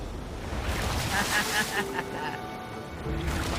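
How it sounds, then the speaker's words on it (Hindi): A big ocean wave crashes onto island rocks, a broad rushing surge that swells and fades amid wind noise on the microphone, while people talk over the water. "ये आई बड़ी लहर"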